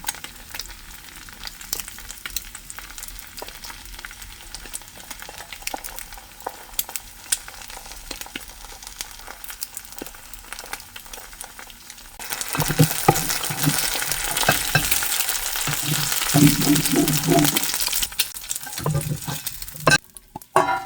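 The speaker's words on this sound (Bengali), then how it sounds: "হয়ে গেছে ডিম ভাজা" Eggs frying in a pan start with a low kitchen hum, then break into a loud, steady crackling sizzle for the last several seconds, close and with no voices.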